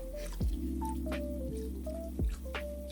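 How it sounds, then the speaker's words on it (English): Oil sizzles steadily while it is ladled over mandazi dough frying in a pot, with a few wet splashes and drips over a constant bubbling hiss. "you start pouring oil on top of them like that to make sure they raise up"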